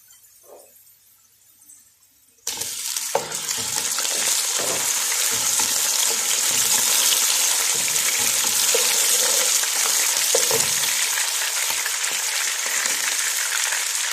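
Chicken drops into a pan of lightly browned onions, and after a quiet start a loud, crackling sizzle bursts up and holds steady, with occasional spatula scrapes under the hiss.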